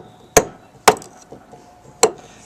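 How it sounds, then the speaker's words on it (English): A hammer strikes a nail into wood three times, sharp and close, each blow a distinct crack with short pauses between. "That's why you can't hammer a nail."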